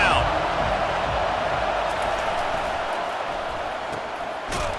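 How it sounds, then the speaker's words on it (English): Stadium crowd in the EA Sports College Football 25 video game, a dense, steady roar of many voices sustained loudly throughout, rising behind the defense on a third down. "Decibels rising as the crowd gets behind this defense on 3rd down"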